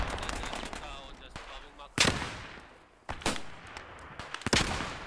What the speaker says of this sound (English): Shoot down the track, machine gun,